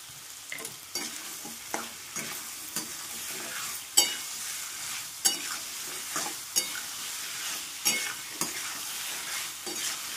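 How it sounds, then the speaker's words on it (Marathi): Potatoes and peas fry in a pan with a steady, soft sizzle, while a spoon stirs and scrapes through them at regular intervals, sharp clicks punctuating the hiss. "आता 9 मिनिटं फ्राय करणार मस्तपैकी"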